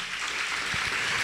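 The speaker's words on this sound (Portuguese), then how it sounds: "Aplauda bem forte ao Senhor." A church congregation claps loudly to praise the Lord, a dense burst of sustained applause heard up close without any talk.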